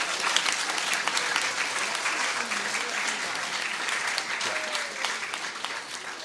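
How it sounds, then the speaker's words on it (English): An audience at a 2019 Grace Christian School sports awards ceremony claps continuously, a thick wash of many hands that holds steady for several seconds, with a faint voice briefly audible underneath. "Now you can clap"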